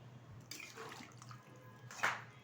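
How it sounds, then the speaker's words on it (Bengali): Water is poured into chicken curry with new potatoes in a pan. Soft splashing and trickling come in quietly, with a brighter splash near the end, and no talk. "এখন আমি দিয়ে দেবো এর মধ্যে পরিমাণ মতো জল।"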